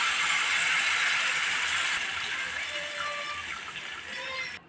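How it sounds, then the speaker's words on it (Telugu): Water mixed with leftover ground paste poured into an eggplant curry, a continuous splashing pour that tapers off near the end, alone. "మిక్సీ కొట్టగా కొంచెం మిగిలింది కదండి పిండి, అందులో వాటర్ వేసుకొని కర్రీలో వేసుకోవాలండి"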